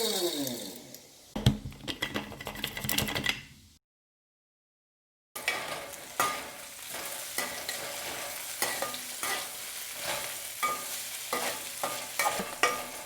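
Ginger frying in sesame oil, a steady sizzle with stirring and scraping in the pan that cuts out to silence for a moment, then comes back with repeated spoon clatter.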